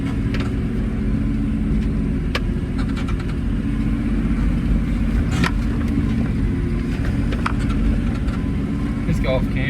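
A vehicle drives a rough wilderness track along the Snowy River with a constant low engine rumble and occasional knocks and rattles from the cabin.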